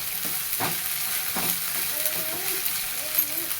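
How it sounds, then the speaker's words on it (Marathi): Vegetables for an eggplant and potato curry are sautéed in a pan, a steady close sizzle with a few scraping stirs, while a faint voice murmurs in the background. "चांगलं परतून घ्यायचं ह्याला चांगला त्याचा कच्चापणा जाईपर्यंत परतून घ्यायचं"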